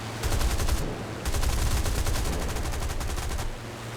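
Rapid aircraft machine-gun bursts from a Seafire Mk XVII in the War Thunder video game, two sustained strings of fire with a brief gap between them, loud and close.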